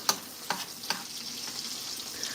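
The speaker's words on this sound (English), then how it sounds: "But this should still get a pretty good sear on max heat." Steak sears in a pan on maximum heat, giving a continuous bright sizzle close by. A few soft knocks and taps come at the start, and there is no talk.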